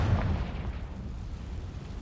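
A Confringo fire spell bursts in Hogwarts Legacy, a dense, rumbling explosion with heavy low-end boom that fills the short moment and slowly tails off without any talk.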